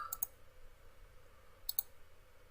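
Two short, faint clicks about 1.5 s apart, a mouse being clicked while modelling in AutoCAD, set against a quiet low hum with no talking.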